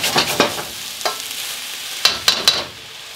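Garlic frying in a pan for an eggplant garlic sauce, a soft steady sizzle broken by several short clattering stirs near the start and three sharper scrapes toward the end, with no talking.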